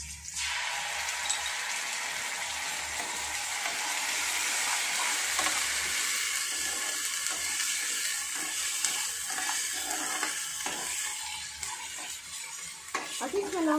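Ginger garlic paste dropped into hot oil in a pan, a loud burst of sizzling that settles into steady frying, with scraping stirring and clinks of a utensil against the pan.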